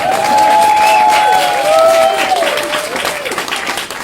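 A crowd at a book launch in Brighton and Hove claps and cheers loudly, with a sustained raised voice ringing out over the dense clapping before the noise gradually fades.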